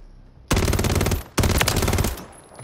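Two loud, close bursts of rapid SMG fire in a video game, each rattling for about a second with a short gap between them.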